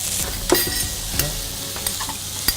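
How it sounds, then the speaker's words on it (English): Noodles stir-fried in a wok for a Thai prawn dish crackle continuously, broken by several sharp scraping strokes of the utensil at fairly even intervals. "you really want to stir the noodles so it doesn't clump up together"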